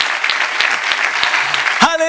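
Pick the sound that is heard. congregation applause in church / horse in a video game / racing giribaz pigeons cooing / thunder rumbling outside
congregation applause in church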